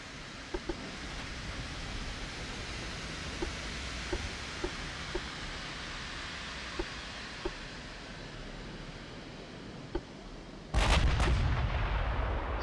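Naval guns fire in the Ultimate Admiral: Dreadnoughts warship game, scattered faint distant booms over a steady roar of wind and sea, ending in a louder, heavier blast.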